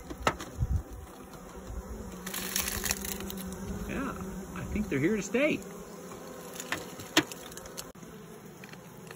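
A swarm of honeybees settled in a new home hums steadily, with a few louder passing buzzes and brief wingbeat whines drifting close; a voice speaks briefly over the drone.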